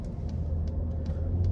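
A Ford Raptor's engine rumbles low and steady after a downshift on a snowy freeway on-ramp, a constant deep drone with faint road noise and no talk.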